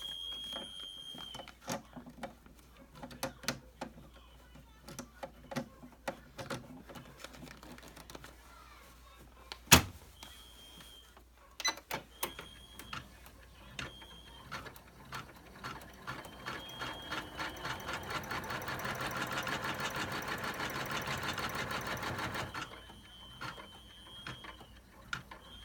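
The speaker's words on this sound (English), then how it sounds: "it's going to stitch out that stay stitch on this side." An embroidery machine stitches a stay stitch for an in-the-hoop business card holder, a steady mechanical chatter of rapid needle strokes with sharp clicks and a louder dense run of stitching near the end, no talk over it.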